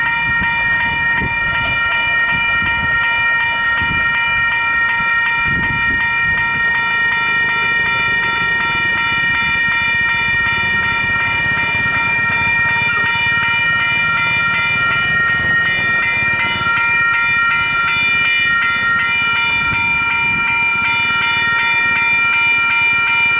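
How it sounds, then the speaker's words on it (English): A train rumbles past the Wallaceville level crossing, close and loud, with the crossing bells ringing steadily throughout and wheels clacking over the rails. "So we'll just wait now for that train to come through."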